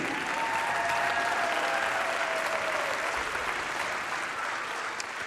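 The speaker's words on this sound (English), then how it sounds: "Let's have a huge round of applause for junior record setter Kennedy Lacey." A crowd claps steadily at a girls' playoff basketball game in a gym, with even, sustained applause and faint whistles or cheers mixed in, heard at a moderate distance.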